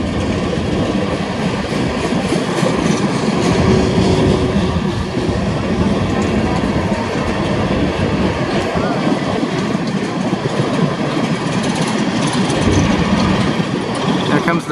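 A loud BNSF coal train with pusher locomotives on the end rumbling past close by at Palmer Lake, with continuous clattering wheels and engine roar; a voice talks briefly over it.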